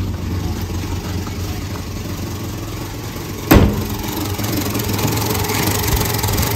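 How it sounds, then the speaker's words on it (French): A 1967 Renault 4 engine, brought back after 26 years abandoned, runs at a steady idle with a constant low rumble, broken once by a short sharp knock. "le moteur il tourne vraiment nickel"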